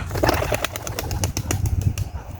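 Racing pigeons released together, a close rush of rapid wing flapping that thins out over about two seconds.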